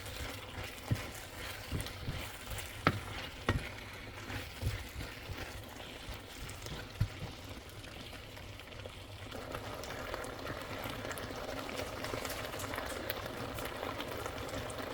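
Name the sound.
beef and vegetables stir fry sizzling with sauce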